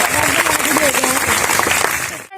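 Loud clapping at a school morning assembly, welcoming the principal, fills the whole stretch as a dense, continuous patter, with voices mixed in among the crowd.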